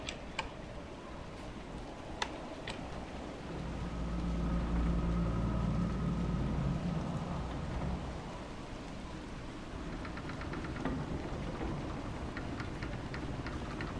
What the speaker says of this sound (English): Plus, I could use the sun if this storm ever clears.